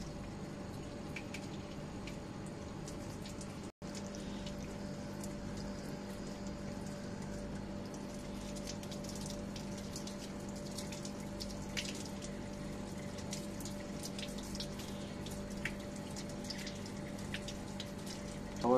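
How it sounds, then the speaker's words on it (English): Running water rinsing Gracilaria red algae after incubation in 1.5% sulfuric acid, a steady even wash with a constant hum beneath it, one brief break near the start, no talk. "So I'm going to wash the material."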